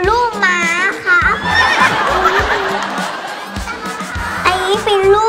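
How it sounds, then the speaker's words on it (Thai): A foal neighs in high, wavering whinnies at the start and again near the end, heard over a lively crowd with children's voices, laughter and talk throughout. "นี่คือลูกม้าครับ"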